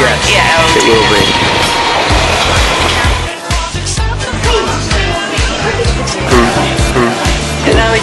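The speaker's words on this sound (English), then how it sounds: "this is a very slow train" A slow-moving train rolls along with loud, steady rumbling and a rhythmic clickety-clack of wheels over rail joints, heard up close from on board.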